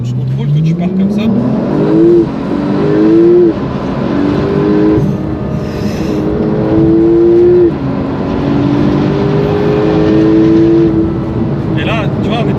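A Porsche 911 GT3 RS engine accelerates hard. It sounds loud and close, climbing through the revs in several rising sweeps with gear shifts between them, as heard from inside the car, while people talk over it.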